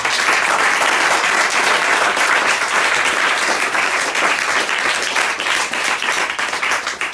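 A church congregation applauds loudly and steadily, dense clapping filling the whole stretch without a break and fading only slightly at the end.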